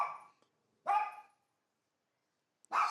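A dog in a backyard barks three times in short, separate bursts, each one sharp and fairly close, with silence between them.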